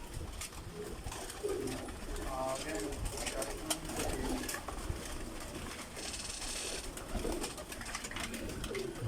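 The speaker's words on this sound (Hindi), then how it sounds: "ये जुगनू कबूतर है माशाल्लाह" Pigeons coo in a loft, soft repeated throaty calls over a busy background of fluttering and shuffling birds, with someone talking at times.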